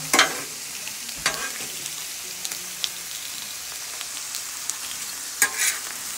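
Squash softens in a hot pan, a steady bright sizzle with a few scraping stirs and clicks of the utensil, close and continuous with nobody speaking.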